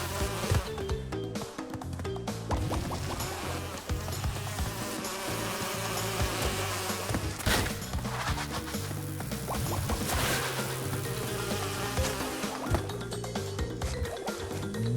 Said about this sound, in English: Ah, yes, the bees.